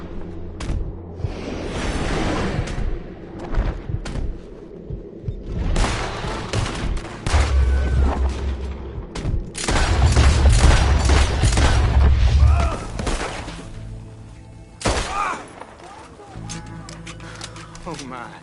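Gunfight in Red Dead Redemption 2, set in the Western town of Armadillo: scattered sharp gunshots and a clustered volley of booming fire, broken by pauses, with character voices talking throughout.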